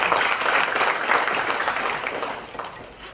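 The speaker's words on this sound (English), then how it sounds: "give yourselves a round of applause" Conference audience of Drupal themers applauding themselves, a steady crowd clapping that gradually fades over a few seconds.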